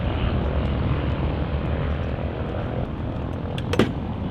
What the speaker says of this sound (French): baptême de l'air, tu le passes avec un hélicoptère